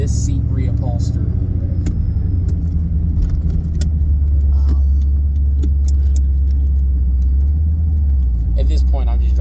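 Inside a moving car, a low steady engine and road rumble fills the cabin, with a few faint jingles and small rattles over it.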